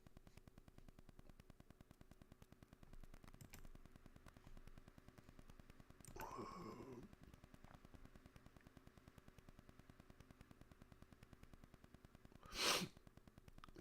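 A short, sharp nasal sniff or sneeze-like burst near the end, close and loud, over a steady background hum with a faint breathy sound earlier.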